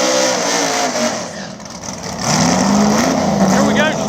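A nitrous-fed Fox body drag car accelerates down a Mooresville drag strip in street class racing, a loud engine roar that builds in pitch, heard from nearby under an announcer's voice.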